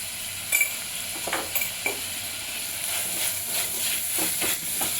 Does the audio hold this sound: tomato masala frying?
yes